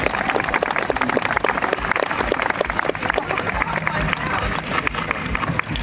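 Dense applause from an audience at a school fairy-tale stage show, steady clapping over the whole stretch with voices mixed in, close and fairly loud.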